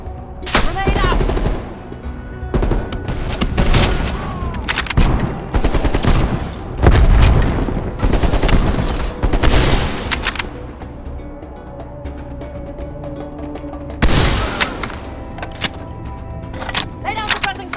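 Heavy gunfire and explosions in Call of Duty: Black Ops Cold War, with dense bursts of automatic fire and booming blasts repeating across the whole stretch and brief lulls between volleys, loud and close.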